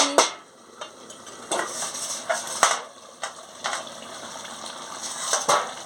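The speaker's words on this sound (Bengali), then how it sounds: "এবার আমি ঢাকাটা খুলে নিচ্ছি" A metal lid clanks as it is lifted off a cooking pot of simmering pumpkin and potato, followed by a series of sharp knocks and clinks from pan and utensils at an uneven pace, with no speech.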